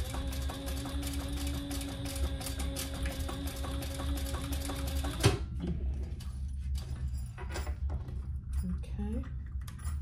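A sewing machine stitching a waist pack runs with a steady, rapid mechanical hum and needle rhythm for about five seconds, then stops abruptly with a clunk, followed by quieter handling noises.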